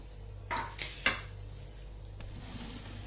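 An iron griddle (tawa) set down on a gas stove: a few short metallic clanks and knocks, the loudest near the middle, over a low steady stove hum.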